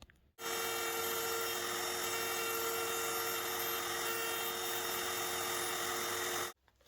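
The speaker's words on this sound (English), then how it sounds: "I will only use this jig to route away the waste on these dovetails." A handheld router with a dovetail jig cuts away waste between wooden dovetails, giving one loud, continuous high-pitched whine that starts and stops sharply and runs for about six seconds.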